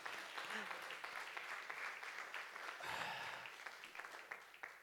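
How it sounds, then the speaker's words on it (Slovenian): An audience claps through a steady wash of applause at a cultural society's 20th-anniversary show in Radomlje, with voices faintly mixed in. "ja, kar zaploskajte, se opravičujem"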